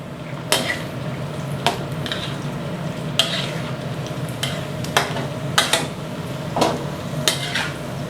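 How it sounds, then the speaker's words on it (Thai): Steady sizzling of Chinese sausage frying in a pan, with occasional sharp clinks of a utensil against the pan over a constant background hum. "เดี๋ยวเรามาทอดกุนเชียงก่อนนะครับ"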